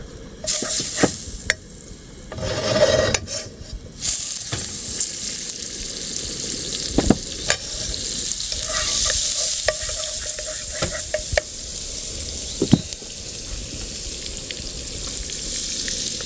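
Butter frying with potato and ginger in a pan at a riverside camp, a steady close sizzle broken by scraping stirs and clinks of a utensil against the pan, with no talking.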